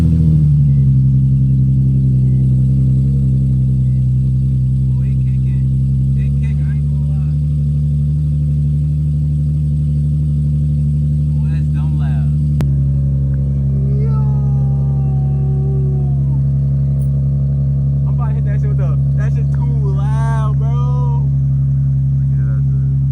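ISR Performance single exit exhaust on a G37 producing a deep, steady idle rumble throughout, loud and close, with faint higher squeaky sounds and brief voices near the end.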